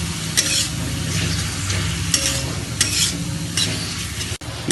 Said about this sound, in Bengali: টমেটোগুলোকে কষিয়ে নিলেই দেখবেন টমেটোগুলো গলেও যাবে